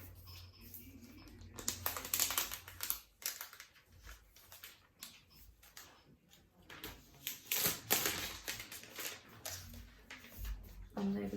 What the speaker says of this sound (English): So here there is a protective layer underneath that I will peel off